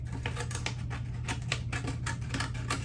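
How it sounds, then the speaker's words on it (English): Scissors cut around a ring made from a paper plate. Close, crisp snips repeat in an uneven rhythm over a low steady hum, with no talking. "Just kind of poked my scissors in there, and then I'm cutting around the racetrack."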